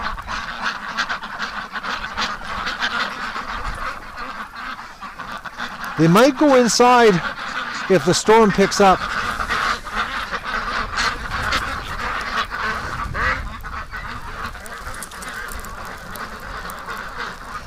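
Ducks quack outdoors near a barn and pen in a winter snowstorm, a few loud bursts of raspy quacking in quick succession over steady wind noise, with someone talking.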